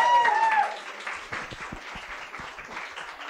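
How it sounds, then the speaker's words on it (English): A comedy club audience at a Longford stand-up gig breaks into steady applause, dense clapping filling the room and trailing off slightly, with a voice briefly heard at the start. "Can you give Niamh a round of applause, please?"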